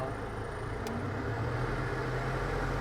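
An automatic car engine idles at 800 RPM with a low, steady hum and faint background noise, nearby and quiet.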